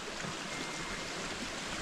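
Steady rushing water with a constant broadband wash from a flowing stream close by in a Romanian forest, with no voices.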